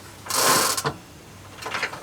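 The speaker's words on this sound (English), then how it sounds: "So if we spin the back wheel" The back wheel of a custom electric Stingray chopper bicycle spins freely with a soft whirring and ticking, followed by a brief scrape as the brakes catch, close and fairly quiet.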